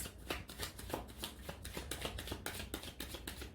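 Tarot cards being shuffled by hand, a run of quick, riffling slaps and flutters repeating in a steady rhythm, close and moderately loud with no talking.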